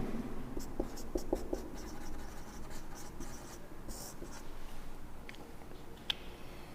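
Chalk or marker scratches across a board while a chemistry example is written out, giving a run of short scraping and tapping strokes at close range, with no talking over it.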